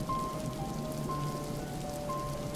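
Rain falls steadily inside an ant paludarium, a dense even patter of drops on the surfaces with a few faint tones in the background.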